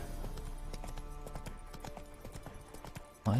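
Hooves of Roach, the horse in Witcher 3, galloping in a quick rhythmic clip-clop that runs steadily, then a short louder burst closes it out.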